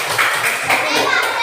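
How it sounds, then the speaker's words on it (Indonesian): Schoolchildren in a classroom clap their hands together in a brief, busy burst, close and lively, with children's voices mingling through it. "Iya, pintar, kasih tepuk tangan."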